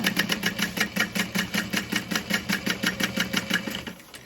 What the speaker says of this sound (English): I'm sewing along the raw bottom edge